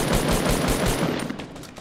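Rapid automatic gunfire in the video game Fortnite rattles in a fast, even rhythm of loud close shots that fade slightly toward the end.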